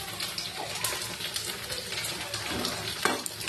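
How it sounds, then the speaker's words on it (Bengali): Aloo posto, potatoes in a poppy-seed paste, hits a hot pan with a steady wet sizzle and soft stirring scrapes, close and continuous, with no one talking. "তা চলো আলু পোস্তটা ঢেলে নিই।"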